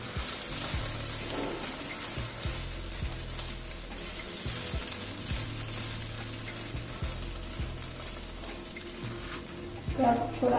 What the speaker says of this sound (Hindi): चिकन को अभी 5 मिनट के लिए थोड़ा सा अच्छे से फ्राई करेंगे।